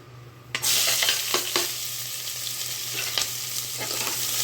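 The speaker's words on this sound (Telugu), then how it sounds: "ఇది ఫ్రై అవుతున్నప్పుడు దీంట్లోనే మనం చాప్ చేసి పెట్టుకున్న ఆనియన్స్ కూడా వేసేసుకుందాం" Chopped onions drop into hot biryani masala in a pan with a sudden loud sizzle that settles into a steady frying hiss, broken by a few stirring scrapes, with no voices.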